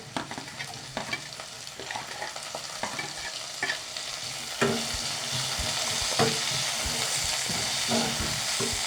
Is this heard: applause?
no